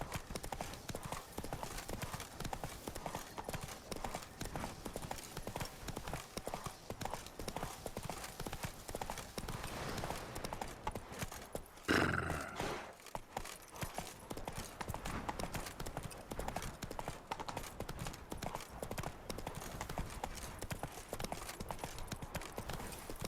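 Rhythmic clip-clop of Roach the horse galloping in a video game, hooves pounding steadily and close throughout, with a brief louder burst midway.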